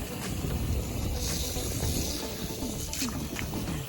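Water running as feet are rinsed at a beach resort foot-wash spot, a steady close splashing and gushing flow with faint outdoor wind behind it.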